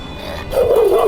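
One dog giving a single short bark or yelp, close and loud, over faint background hiss.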